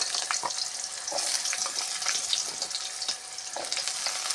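Diced potatoes frying in a pan with dried red chilli, bay leaf and nigella seeds: a bright, dense crackling sizzle that runs continuously with occasional soft stirring clicks, close and moderately loud.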